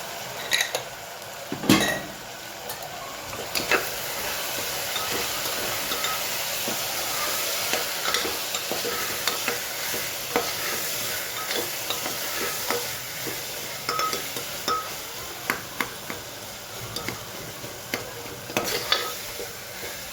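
Masala with turmeric, red chili powder and salt fries in a pan, a constant close sizzle broken by repeated scraping and clinking of a spoon stirring against the metal.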